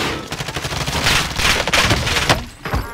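Bursts of automatic gunfire crackle in a Call of Duty Warzone battle, with rapid overlapping shots from several weapons that swell and fade, one louder burst near the end.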